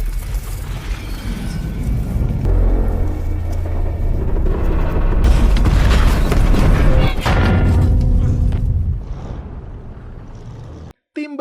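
A tank cannon fires in a war film, a deep boom with a long rumbling, rolling blast and mechanical clatter, loud and sustained, fading out near the end.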